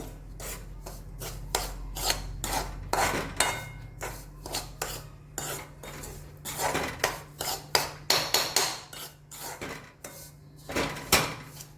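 A spoon scrapes and stirs a rava, besan and mango mixture in a pan over a gas flame, in repeated rasping strokes with short pauses, close and clear, with no voices.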